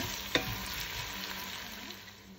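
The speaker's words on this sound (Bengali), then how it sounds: "এখন আমি পেঁয়াজটা ভেজে নিব।" Onions for achari beef frying lightly in a pan, a steady soft sizzle with a single sharp clink near the start, close and fairly quiet.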